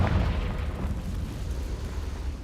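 A Confringo spell explodes in Hogwarts Legacy, a heavy booming blast with a deep rumbling tail that stays loud and dense for the whole couple of seconds.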